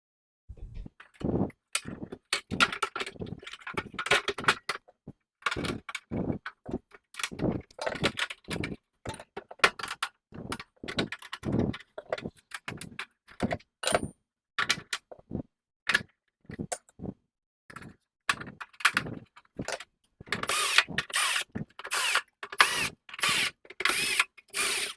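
Plastic and metal parts of a GE Profile Opal ice maker being snapped and fitted back together, a long series of sharp clicks, ratchety clacks and rattles in irregular bursts, close by with quiet gaps and no speech.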